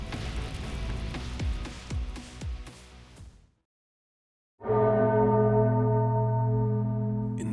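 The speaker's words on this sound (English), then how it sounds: "Anduin hears a bell, clear as day." Bell ringing as a clear sound effect: first a run of repeated struck tolls, then a pause, then a sustained, loud, resonant bell tone with rich ringing overtones.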